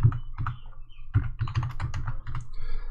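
Fingers type on a computer keyboard in steady bursts of quick, close clicks and clacks, with short pauses between runs and no voices.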